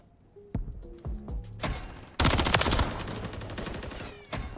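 Gunfire in Call of Duty: Modern Warfare 3 with an MCW rifle loadout: a few close single shots, then a dense, loud burst of rapid automatic fire that trails off.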